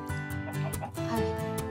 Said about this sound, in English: These chickens are causing so much chaos.